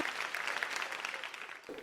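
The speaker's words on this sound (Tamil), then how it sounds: "நல்ல கைத்தட்டல் கொடுத்துடலாம் இந்த குட்டிக்கு" An audience applauds at an awards show, a faint, steady patter of clapping from a crowd lasting a couple of seconds.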